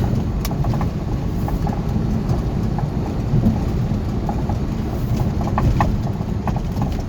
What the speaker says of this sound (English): You can hear that control arm, whatever that is, rattling around over there